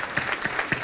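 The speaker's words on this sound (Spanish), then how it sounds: "Y un aplauso por este corte." Steady applause from a crowd, continuous clapping with a few louder bursts, fairly close and filling the whole moment.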